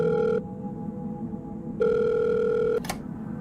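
A mobile phone rings in a home, sounding two long electronic ring bursts separated by a pause, loud and close, followed by a brief click.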